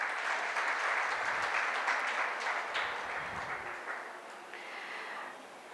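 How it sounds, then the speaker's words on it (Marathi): Audience applause fills the hall after a speaker at a Women's Day event, a dense, fairly steady clapping that holds for several seconds and eases slightly toward the end. "एकदा शारदाताईंसाठी जोरदार टाळ्या."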